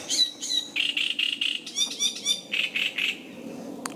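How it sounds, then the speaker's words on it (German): A great reed warbler sings near a lakeside hiking trail, loud and close, repeating harsh, croaking, chattering phrases in a steady rhythm of short bursts. "Und das ist ein Drosselrohrsänger."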